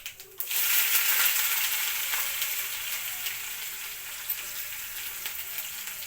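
Onion, mustard seeds and curry leaves fry in a pan with a sudden burst of loud, steady sizzling that stays close and continuous without talk.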